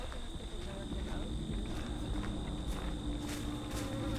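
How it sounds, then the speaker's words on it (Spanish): Flies buzz in the horror video game Dead by Daylight, a steady insect drone with faint clicking ticks running through the whole stretch at moderate level. "¿Por qué suenan moscas?"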